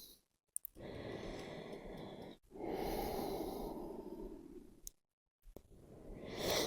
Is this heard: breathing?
yes